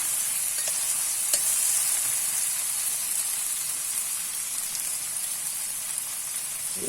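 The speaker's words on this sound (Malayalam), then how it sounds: "കടുക് വറക്കുമ്പോൾ ചുമന്ന മുളക് 2, പച്ചമുളക് 2, തക്കാളി കടുക് വറുത്ത് കഴിഞ്ഞ് നമ്മളിടണം." Mustard seeds, two red chilies, two green chilies and tomato fry in hot oil for a kadala curry, giving a steady close hiss with a few faint pops and no talking.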